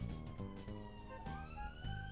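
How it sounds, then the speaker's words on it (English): A police-style siren wails outside the window, its rising and falling tones fairly faint and distant, repeating over a low background hum. "we have sirens going past my window"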